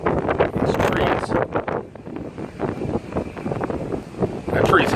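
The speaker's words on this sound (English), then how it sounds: "Wow, it's windy." Strong gusty wind roars through trees in Wisconsin, buffeting the microphone with heavy low rumble that swells and dips, while a person talks over it.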